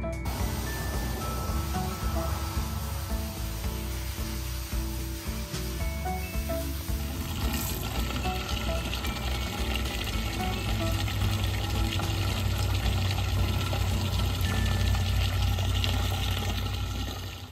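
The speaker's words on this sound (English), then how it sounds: "I'm gonna fill up the water reservoir in the back" Water pours steadily into the back reservoir of a potted plant, a continuous rushing splash with no talk that carries on for the full stretch.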